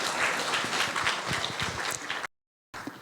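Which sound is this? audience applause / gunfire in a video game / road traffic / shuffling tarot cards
audience applause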